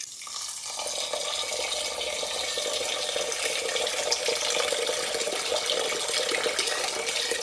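Water pours steadily into a pot of rice, about 300 grams of it, a continuous close splashing rush that starts abruptly and holds at an even level throughout.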